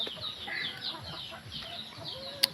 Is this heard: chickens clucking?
yes